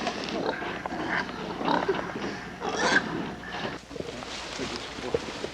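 Pigs grunt and oink close by in a run of loud, overlapping snorts during a special forces training exercise outdoors, with wind buffeting the microphone and a voice talking over part of it.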